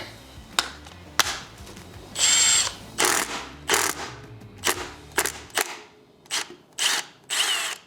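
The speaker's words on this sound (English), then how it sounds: "So I'm gonna try Milwaukee with the 12 mil on it." Milwaukee cordless power tool fitted with a 12 mm socket working on intake manifold bolts during a K24 swap teardown of a Subaru BRZ, giving repeated short whirring and ratcheting bursts with brief pauses between, close and loud.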